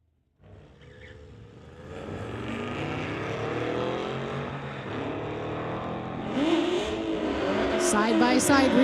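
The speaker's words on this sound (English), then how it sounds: "Side-by-side racing action here." Two street-legal drag racing cars launch side by side at a drag strip, engines roaring and building in loudness as they accelerate away, the rising howl continuing to the end of the run.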